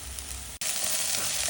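Ginger garlic paste fries with mutton in a hot pan for an Andhra-style mutton fry, a loud, dense sizzle that cuts out for an instant and then comes back stronger.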